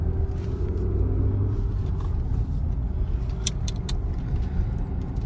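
Tata Sierra with its 1.5 naturally aspirated engine pulling at full throttle: a steady low engine drone and road rumble heard from inside the cabin, with faint ticks and clicks over it.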